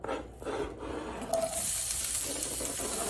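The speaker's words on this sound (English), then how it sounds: "So I'm going to add the onions now." One large chopped onion hits a hot pan and breaks into a steady, moderately loud sizzle and hiss that keeps going to the end.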